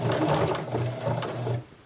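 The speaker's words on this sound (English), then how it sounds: "So I'm going to start sewing a little bit just to catch some fabric" Sewing machine stitching a fabric face mask, with a steady mechanical whir and hum that runs for about one and a half seconds before stopping; no talking.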